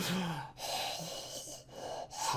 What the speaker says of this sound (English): I cannot have you breathing so heavily on my channel